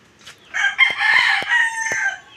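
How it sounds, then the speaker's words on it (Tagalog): Roosters crow at midday on a rural Philippine homestead, one long loud crow with overlapping calls and a few short clucks, close by and clear against quiet surroundings. "Ayan, nagtitilaokan pa ang mga manok."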